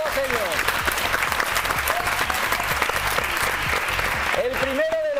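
A television magazine show's studio audience breaks into full, loud applause that holds steady throughout, with brief voices near the start and end.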